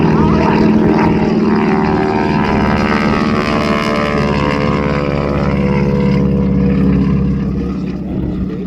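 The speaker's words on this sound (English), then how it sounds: "that propeller was making a lot of noise" A North American SNJ warbird propeller plane flies past at an air show at MCAS Miramar with a loud, sustained buzzing propeller drone and engine roar that holds steady, then eases slightly near the end.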